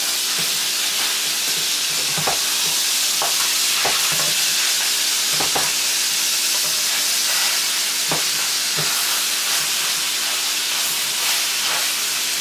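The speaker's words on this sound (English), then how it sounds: "This is what you want when we're searing them. This is what you're looking for. Just a nice sear." Pork chops searing in a hot pan give a steady, loud sizzle and hiss throughout, with occasional sharp pops and crackles of spitting fat and no voices.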